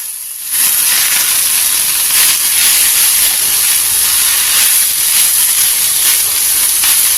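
Leafy greens tipped into hot oil with softened green chillies and garlic for a chutney, setting off a sudden loud, steady hiss and sizzle that starts about half a second in and holds evenly to the end.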